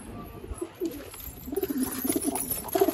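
Punjabi pigeons coo close by in soft, low, throaty bursts that repeat with growing frequency over a quiet background, and no voices are heard.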